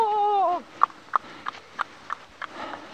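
A person imitates a horse, first with a falling neigh-like whinny and then with a steady series of tongue-clicked clip-clop beats, close and clear.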